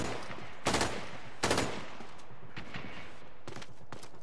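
Three-round burst rifle fire in the shooter game Dirty Bomb: two tight bursts close together, then scattered fainter shots from more distant gunfire.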